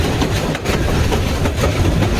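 The Brahmaputra Express rumbles loud and close over the Kawaid bridge, a dense continuous roar of wheels and carriages with rhythmic clattering throughout.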